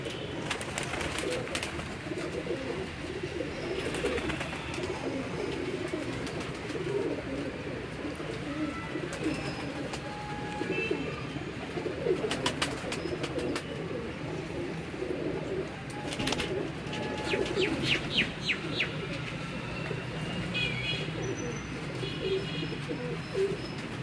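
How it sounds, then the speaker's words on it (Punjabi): Many Neel Dumba pigeons coo continuously, a dense low warbling chorus with scattered chirps and brief rustles throughout. "ਇਹ ਉਹਨਾਂ ਦੇ ਨੀਲ ਦੁੰਬੇ ਕਬੂਤਰ ਨੇ ਜੀ"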